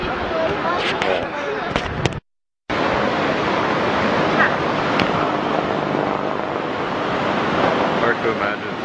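Roaring of the massive Iguassu Falls waterfall, a loud continuous broadband rush with wind buffeting the microphone, briefly cut out once, while people talk over it.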